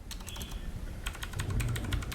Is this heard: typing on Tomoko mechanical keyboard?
yes